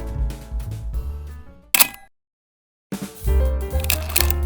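A Canon FX film camera's back door is shut after loading film, giving one sharp mechanical snap between stretches of background music, followed by a brief silence before the music returns.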